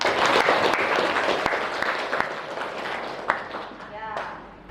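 A classroom gives a short round of applause, scattered claps that taper off while voices murmur and a speaking voice comes in over the end.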